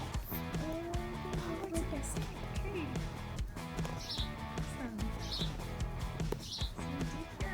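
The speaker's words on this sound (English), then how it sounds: "Listening for a bird call, do you hear that?" Small birds chirp outdoors near an apple tree, a few short, high, thin calls repeating at intervals, half buried under a dense wash of background noise and a person talking.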